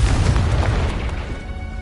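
A Confringo blasting spell explodes in Hogwarts Legacy, a loud, deep boom with rumbling low-end that sustains and slowly tails off, alone without talk.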